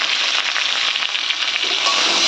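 Spices, turmeric and salt sizzling in a frying pan, a loud continuous crackle at close range with no voices.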